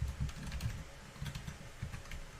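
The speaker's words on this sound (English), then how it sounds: "Man, where's my typing?" Rapid, steady clicking of keys on a computer keyboard during C# coding work, heard close and alone, with no talking.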